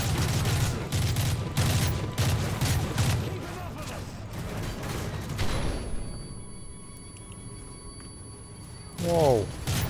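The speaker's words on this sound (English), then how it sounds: "Don't shoot at me from the window." Gunfire in the shooter video game Modern Warfare 3 crackles in rapid bursts of shots through the first half, then fades to faint game ambience with a tonal whoosh at the end, while a player talks over parts of it.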